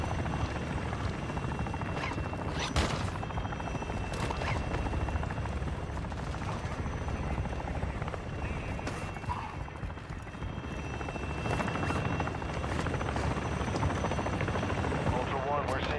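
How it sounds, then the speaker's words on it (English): An attack helicopter in the video game Call of Duty DMZ drones continuously in the background for the whole stretch, a steady rotor rumble with occasional sharper bursts and thuds of gunfire layered over it. "the helicopter has stopped shooting us"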